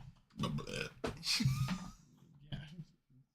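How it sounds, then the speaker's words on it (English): Several loud, close burps in quick succession, rough and guttural, with short pauses between them during a casual livestream. "I thought you were going to stop burping."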